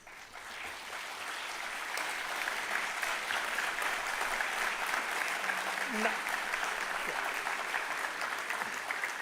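Parents in a hall at a university convocation applaud in a steady, dense wash of clapping that holds evenly from start to finish, with a faint voice briefly audible beneath it.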